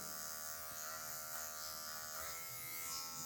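Electric hair clippers cutting a mid fade into afro hair, a continuous close buzzing drone with slight shifts in pitch as the clipper is tilted, with no talk.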